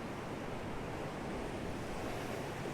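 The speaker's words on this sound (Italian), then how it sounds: "qua vedete come arriva l'acqua, guardate che roba" Waves from Lake Garda wash ashore in a steady, dense roar of surf, moderately quiet and continuous with no talking.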